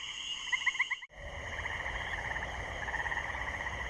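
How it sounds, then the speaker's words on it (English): Tree frogs in the Everglades calling in a nocturnal chorus: steady, dense pulsing trills overlapping continuously at a moderate distance, with a brief cut early on before the chorus resumes unbroken. "Tree frogs begin their nocturnal, pulsating acoustic chorus."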